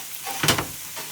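Food in a frying pan gives off a short burst of hissing sizzle, brief and fairly close, with a continuous faint hiss around it.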